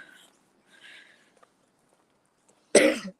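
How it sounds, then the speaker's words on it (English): A single sharp cough bursts out near the end after faint murmuring and near silence, loud and close. "Excuse me, I just had to cough."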